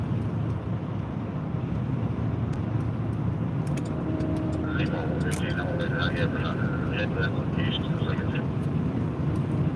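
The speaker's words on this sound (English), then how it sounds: "That's the helicopter." Helicopter flying overhead during a police patrol pursuit, a continuous loud engine and rotor rumble that stays steady throughout, with faint radio-like tones and chatter layered on top partway through.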